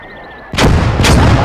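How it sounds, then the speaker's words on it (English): A mortar in the World War II game Gates of Hell fires two loud, close booming blasts about half a second apart, after a quiet lead-in with a faint whine. "Yeah, that's my mortar."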